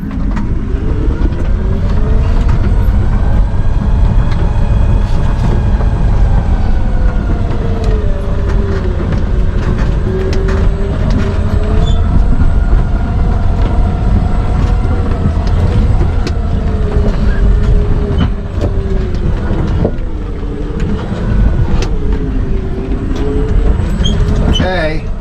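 A Polaris Ranger EV electric utility vehicle in low range and locked four-wheel drive, climbing uphill while pulling a Sure-Trac dump trailer, its motor whining steadily and rising and falling under continuous loud wind rumble and someone talking.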